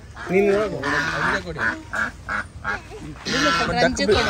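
Ducks quack in a run of close, nasal calls with uneven gaps, the bursts overlapping as several birds call at once, with human voices mixed in around them.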